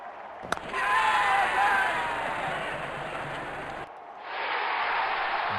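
Cricket crowd roaring and cheering after a six is struck, a broad continuous wash of stadium noise with a sharp bang near the start, a brief dip, then the cheering swelling again.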